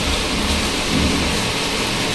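Heavy rain pours down with wind in a steady, loud, unbroken roar that fills the whole scene with no voices.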